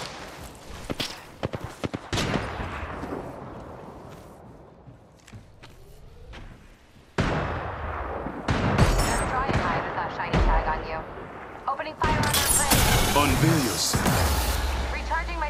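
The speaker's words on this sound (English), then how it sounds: "Taking fire!" Apex Legends firefight, bursts of rapid gunfire and heavy impacts cluster in loud, dense stretches with quieter gaps between, mixed with footsteps and game noise.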